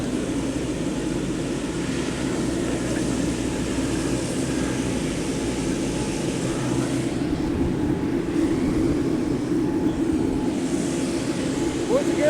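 Small propeller plane, a puddle jumper, at an airport in the Cook Islands, its steady engine drone running throughout at moderate distance with people talking over it.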